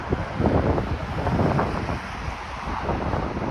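Wind buffets the microphone in steady low rumbling gusts throughout, loud and close, on a neighbourhood walk in North West Etobicoke, Toronto, with no talking.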